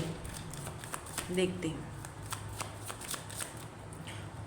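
Tarot cards are shuffled and drawn, with rapid papery riffles and crisp flicks repeating through the clip while someone speaks briefly nearby.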